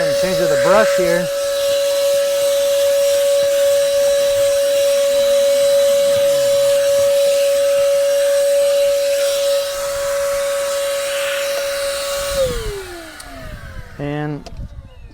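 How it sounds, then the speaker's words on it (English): A steady, loud whine of a small Craftsman 3-in-1 cordless vacuum cleaner running inside a car for about twelve seconds, then winding down, with brief clatter and a tone at the end. "go ahead and vacuum inside of my car"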